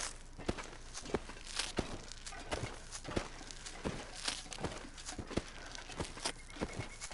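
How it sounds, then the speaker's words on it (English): Footsteps in The Long Dark video game thud at an even walking pace, each step a sharp, loud crunch that repeats steadily across the whole stretch. "Sounds like it's turned up my footsteps again"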